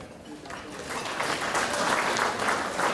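Steady applause from a crowd, a dense wash of clapping that swells slightly and holds for the whole stretch.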